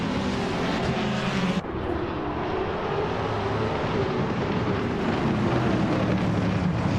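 A field of race cars, led by a 2021 Ford Mustang, roars off the start line in a racing video game, a dense, loud engine drone that stays continuous after a brief dip.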